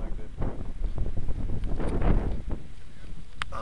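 Gusty wind buffets the microphone in uneven rumbling bursts, with a few brief voices mixed in.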